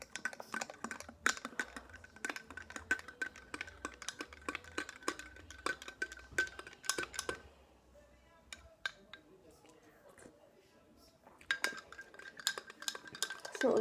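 A spoon clinks and scrapes rapidly against a bowl while stirring a chocolate mixture by hand. The taps come in a dense, steady rhythm, pause briefly midway, then resume. Faint background hum underneath.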